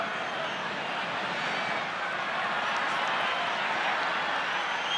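A rugby stadium crowd at a 2014 Super Rugby match between the Brumbies and Waratahs cheers and applauds in a steady, unbroken roar that holds at the same level from start to end.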